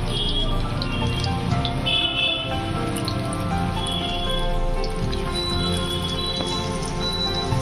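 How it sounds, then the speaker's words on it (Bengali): Raw banana pakoras fry in hot oil over a medium gas flame, giving a continuous, even sizzle and crackle with light popping throughout, close and steady with no talk. "আমি এরকম করে ভেজে নিচ্ছি।"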